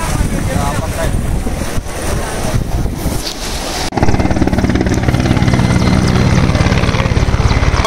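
A helicopter flies over flooded neighbourhoods of Vijayawada. Its rotor drone is loud and steady throughout and gets noticeably louder and fuller about halfway through.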